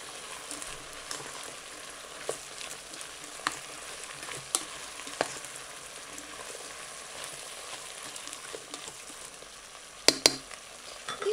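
Onion, carrot, zucchini and eggplant frying in a multicooker for vegetable stew, heard as a soft, continuous sizzle with faint stirring scrapes and a couple of sharper knocks near the end.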